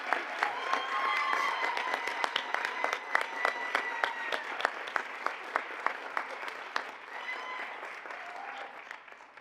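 An audience at a school board meeting claps steadily for Maplewood's Teacher of the Year, dense sustained applause from a crowd with sharp individual claps standing out, gradually thinning toward the end.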